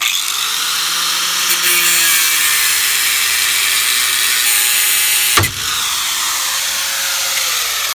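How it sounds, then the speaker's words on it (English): A saw cuts the axles out of a rust-free Toyota FJ60 Land Cruiser, a loud continuous grinding whine close by that holds steady before a sharp knock and a slight drop in intensity. "Just working on cutting these axles out."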